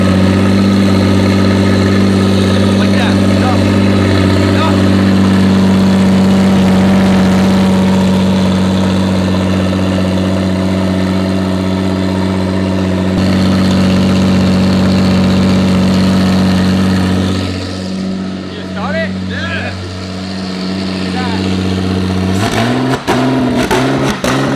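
A Toyota 2JZ engine from a mystery project car idles loud and close, with a steady low drone and a rougher patch near the end.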